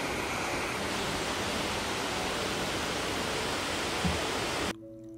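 Amicalola Falls waterfall roaring as a steady, close wash of falling water that holds constant for almost five seconds and then cuts off abruptly.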